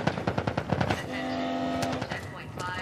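Gunfire in The Last of Us video game: a rapid burst of automatic shots rattles at the start, then a steady hum and scattered single shots follow, with voices shouting over the firefight.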